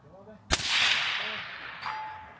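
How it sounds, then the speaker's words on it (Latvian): A rifle fires on a long-range precision shooting course, a sharp crack followed by a long rolling echo, then a faint metallic ping as the bullet strikes a steel gong target about 300 metres downrange. "Jātrāpā pa gongu. Divreiz."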